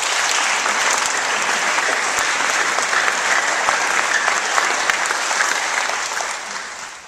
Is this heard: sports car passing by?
no